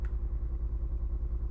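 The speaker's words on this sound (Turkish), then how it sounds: "Bir araba sesi geliyor." A car engine in the game My Summer Car chugging like a tractor, a low, fairly faint rhythmic idle with a steady thumping pulse, heard alone.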